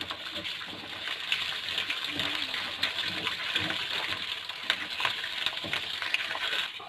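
Water is poured into a cooking pot while beef pulao is being made, giving a steady splashing, gushing hiss that runs the whole time at moderate, close level.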